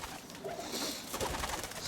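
Roller pigeons in a loft coo softly, low throaty calls repeating over a faint background of rustling and ambient noise.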